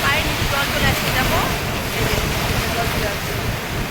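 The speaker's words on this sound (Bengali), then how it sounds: "চলছে দেখো স্রোত ভিজে ভিজে গেছে এদিকটা" Sea waves wash over the shore at Mohana beach near Digha, a continuous rushing surf heavily mixed with buffeting wind noise on the microphone.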